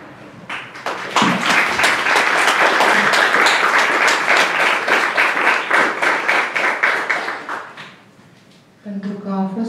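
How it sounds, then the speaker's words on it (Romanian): An audience at a book talk applauds loudly with dense, sustained clapping that gradually thins out and fades, and a voice resumes speaking at the very end. "Și pentru asta trebuie să le aplaudăm și pe ele."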